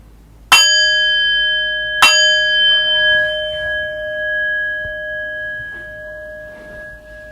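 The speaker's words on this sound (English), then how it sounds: "I'll ring the bell twice to begin." A meditation bell is struck twice, about a second and a half apart. Each clear, loud strike leaves a long, shimmering tone that slowly fades in a quiet room.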